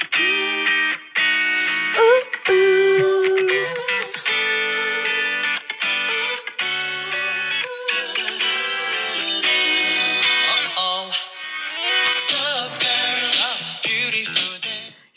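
Wonder Girls K-pop song "Confusing" playing, with bright layered vocals over a busy synth-pop backing, loud and continuous throughout with no talk over it.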